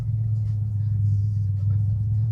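A nitrous-equipped Ford Mustang V8 idles with a loud, deep, steady low rumble that stays constant and close throughout, with no clear revs.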